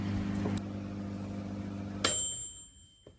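A microwave oven, running normally after repair, hums steadily with a low electrical drone, then a single bright ding rings out as the hum cuts off, leaving a fading tone.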